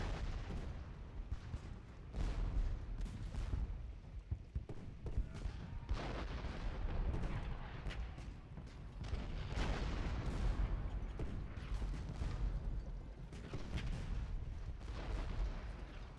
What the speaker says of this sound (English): We must creep forward with the artillery.